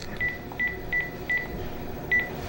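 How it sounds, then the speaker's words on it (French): A telephone number is dialed as a quick series of six evenly spaced touch-tone beeps, clear and fairly close, with a pause before the last tone and faint room noise beneath. "on téléphone"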